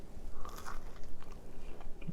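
Crisp bites and chewing on a crunchy savory cauliflower waffle, herby and cheesy, come through close and clear as a few short crunches over about two seconds, with no talking.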